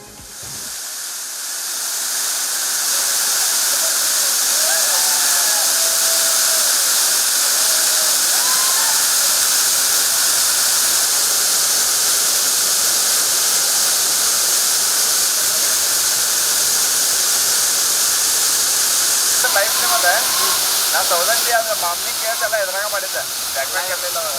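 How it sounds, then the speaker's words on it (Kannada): Sundi Falls, a waterfall plunging 150 feet, roars in a loud, continuous wash of rushing water throughout, with a narrator's voice speaking over it. "150 ಅಡಿ ಮೇಲಿಂದ ಧುಮುಕುವ ಜಲಪಾತ ಕಣ್ತುಂಬಿಕೊಳ್ಳುವುದಕ್ಕೆ ಪ್ರವಾಸಿಗರ ದಂಡು ಆಗಮಿಸ್ತಾ ಇದೆ."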